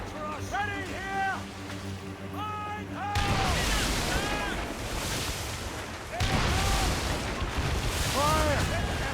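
Ship cannons boom in an Assassin's Creed Rogue naval battle: two heavy, sudden broadside blasts break over the churning sea, with shouted crew voices before and between them.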